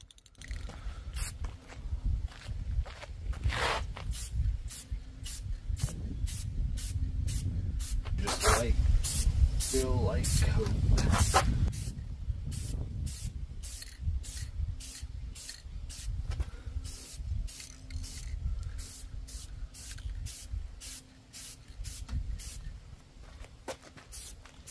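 A light first coat of spray paint goes onto a rusty truck's cab corners and rockers in short, repeated hissing bursts close by, with a longer spray mid-way and a breeze rumbling in the background.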